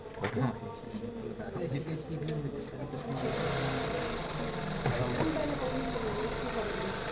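A sewing machine stitches a shirt collar seam with a steady, close mechanical whir that gets louder partway through, while a person talks over it.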